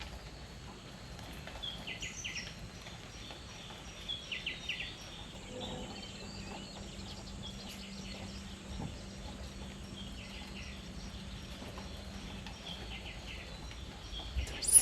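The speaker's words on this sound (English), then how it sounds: "You can hear all the insects and the birds." Birds and insects in rural Vietnamese countryside fields, heard after heavy rain: scattered bird chirps over a quiet, steady background of insect buzz, mostly faint and distant, with a sustained tone midway.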